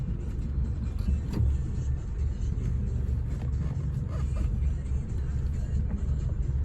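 Vehicle driving along a gravel forest road between Zubacze and Wólka Nurzecka, with a steady low rumble of engine and tyres on loose stones and occasional light crunching; no talking.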